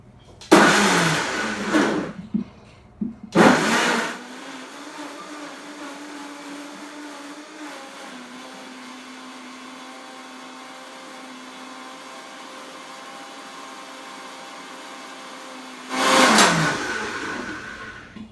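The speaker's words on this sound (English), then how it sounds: "you don't want to overblend because you don't want to actually heat these ingredients" A blender whirs steadily for about twelve seconds, blending raw green soup ingredients with mineral-rich broth, with brief louder bursts and clatter before and after the main run.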